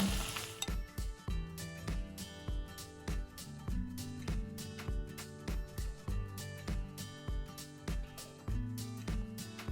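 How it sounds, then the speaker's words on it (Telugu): Tempering poured into a pan of chicken roast sizzles and crackles steadily for about ten seconds, with clinks and stirring scrapes of utensils against the pan, close and fairly quiet, with no talking. "స్టవ్ ఆఫ్ చేసేసి ఇప్పుడు మనం తాలింపు వేసేసుకుందాం."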